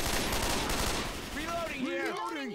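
Rapid bursts of gunfire in the video game Left 4 Dead 2 crackle loudly, fading into ringing tonal sweeps near the end.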